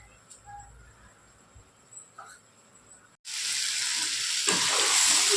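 Vegetables with tamarind for an ash gourd and fenugreek leaf pickle cooking in a pan; a quiet stretch of faint sounds gives way to a sudden loud, steady sizzle that grows stronger near the end.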